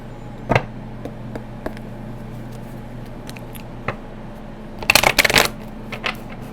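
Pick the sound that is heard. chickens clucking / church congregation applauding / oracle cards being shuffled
oracle cards being shuffled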